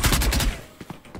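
Rapid close gunfire in the tactical shooter Valorant, a loud burst of about five shots in quick rhythm, followed by a couple of fainter clicks.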